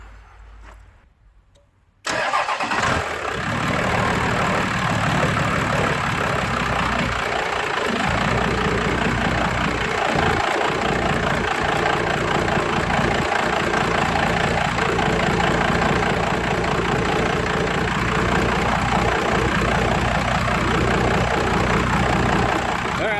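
A 12 valve Dodge Cummins diesel engine cranks and fires up after a short quiet moment, then settles into a loud, steady clattering idle close by.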